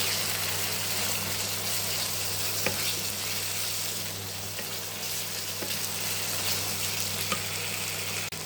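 Dry red chillies fry in hot oil in a pan, giving a dense, continuous crackling sizzle that stays loud and close for the whole stretch, with a few sharper pops and no speech.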